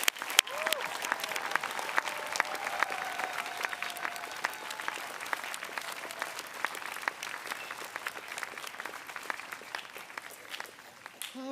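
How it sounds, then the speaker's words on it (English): Audience applause for alumni at a university commencement ceremony, steady dense clapping from a large crowd sustained throughout and tapering slightly at the end. "please join me in one more round of applause for all of our talented and dedicated alumni"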